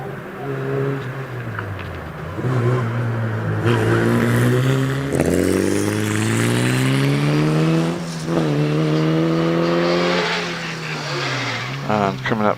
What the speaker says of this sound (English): Lawrence Marks gets off the line in his Van Diemen RF84, car 826.